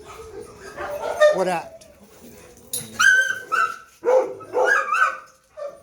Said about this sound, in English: You see the scream and the bark?